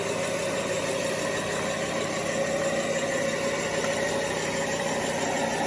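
HG P802 Oshkosh HEMTT RC truck with an upgraded brushless motor running at full throttle in low gear, giving a steady, loud, unbroken electric whine and drone with no voices.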